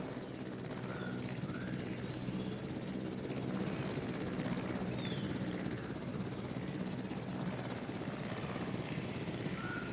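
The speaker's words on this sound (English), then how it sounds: "I'm still on the chopper" A helicopter in the Jurassic World Evolution video game gives a steady, moderately quiet rotor and engine drone that runs throughout, with scattered bird chirps and tweets above it and no talking.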